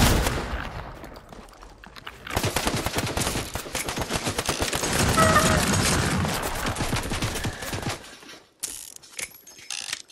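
Rapid revolver gunfire and mechanical clatter in the video game Fortnite, a dense, loud burst lasting several seconds before breaking off into a few scattered shots.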